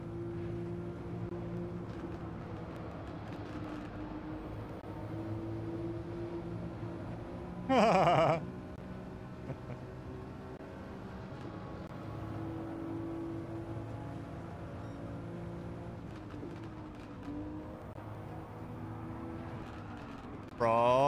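Toyota Supra race cars in Gran Turismo 7 drone along with a steady engine hum that rises and falls through gear changes, plus a couple of brief loud bursts of revving.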